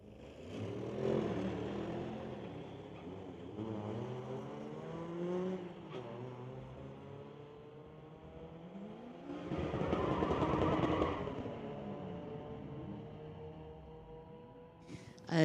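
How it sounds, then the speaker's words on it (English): A 2023 Audi and a 1992 Mazda Miata drag race at a street-legal event, their engines revving and rising in pitch as they accelerate down the strip, heard at a distance with a louder surge midway. "Jared Balfour from Chilliwack, the 2023 Audi, going against Zach Beveridge in the 92 Miata."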